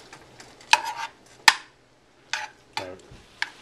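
Berries with spiced rum and a teaspoon of butter stirred in a hot pan, giving a few sharp scraping clicks and short bursts of stirring with quiet gaps between them, close and fairly soft.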